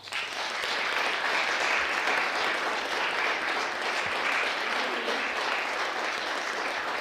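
Sustained audience applause welcoming a lecturer to the stage at an evening talk on the life stories of objects from empire's frontier, dense steady clapping from a large crowd filling the room throughout.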